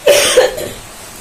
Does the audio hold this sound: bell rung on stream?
no